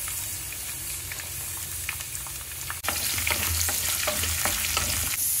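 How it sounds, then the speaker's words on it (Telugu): Onions and green chilies fry in hot oil in a tempering for an Indian gongura curry, a busy close crackle with scattered pops that jumps louder partway through and then keeps sizzling steadily. "ఇలా వేగుతున్న ఉల్లిపాయలో"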